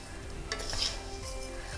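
An ingredient dry roasting in a pan for Thiruvathirai kali crackles softly while a utensil stirs and scrapes, giving a few brief clinks and rustles at a quiet, close level.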